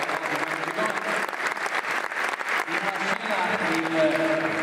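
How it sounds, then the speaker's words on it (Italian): Audience at a sports film festival applauds in a steady, dense burst of clapping with some voices mixed in, filling the room throughout. "magistralmente interpretato da Remo Gironi, bisogna fargli un applauso, scusate."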